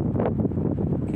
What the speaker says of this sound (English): It's snowing, super windy.